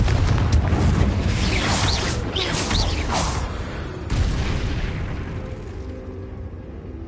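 A Confringo spell blast in the game Hogwarts Legacy, a loud, dense rumbling explosion that bursts at once and then fades slowly through crackling debris.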